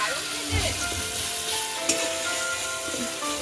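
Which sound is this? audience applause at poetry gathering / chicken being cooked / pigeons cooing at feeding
chicken being cooked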